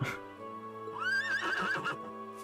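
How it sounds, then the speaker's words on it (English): A horse in the video game Trails of Cold Steel II whinnies loudly with a rising, wavering neigh over a steady low background hum. "You call their horse Zuko?"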